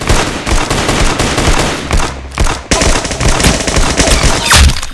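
Rapid, dense gunfire from Roblox Arsenal played on mobile, continuous loud bursts of automatic shots with a brief lull midway, no talking.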